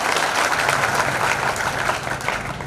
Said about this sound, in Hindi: अभिनंदन में जोरदार तालियां